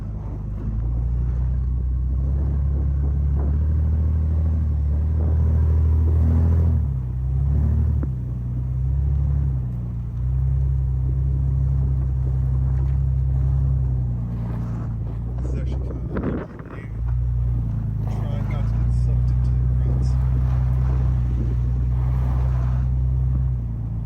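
A Jeep WJ on 37-inch tires with a 6.5-inch lift and nearly bald tread pushes through snow, a loud continuous low engine rumble with wind buffeting the microphone and a brief dip midway.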